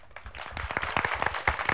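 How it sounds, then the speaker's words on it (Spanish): An audience at a televised singing contest claps for a contestant, a lively burst of many hands with distinct individual claps, close and moderately loud. "Aplausos para mi primer jilguerillo."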